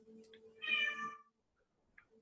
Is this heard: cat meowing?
yes